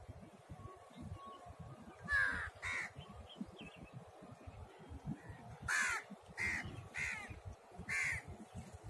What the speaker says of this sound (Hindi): मोर नहीं है, कौए हैं, वो चहलकदमी कर रहे थे।